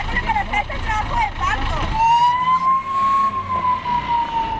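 Ambulance siren on an urgent run carrying a pregnant woman, a steady rising-and-falling wail that sweeps in clearly after a burst of mixed street noise and stays loud and close.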